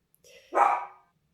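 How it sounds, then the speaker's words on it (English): A single close, sharp dog bark sounds alone against near silence, preceded by a faint softer whine. "And that's my dog."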